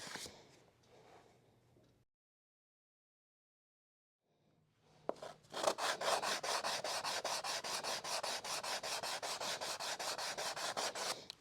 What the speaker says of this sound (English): I'm going to grab a sanding block that's got a little bit of a curve to it